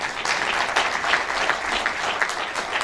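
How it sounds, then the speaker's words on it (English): Steady, dense audience applause fills a conference hall, loud and continuous throughout with no pauses. "Can you clap for her?"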